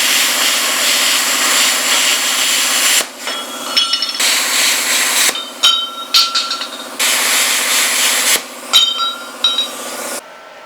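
A power tool grinds and cuts loudly at close range while steel plates are trimmed for weld testing on a steel boat refit, sustained bursts broken by short pauses and scraping, ringing metallic contacts.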